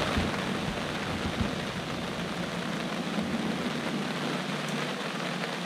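Steady rain pours during Hurricane Harvey flooding in Houston, a dense, even hiss of drops on surfaces, close and constant with no voices.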